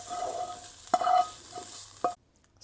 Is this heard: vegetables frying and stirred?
yes